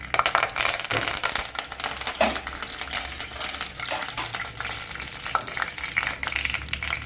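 Curry leaves hit two spoons of hot oil and crackle and spit loudly up close, a dense, continuous sizzle that runs throughout.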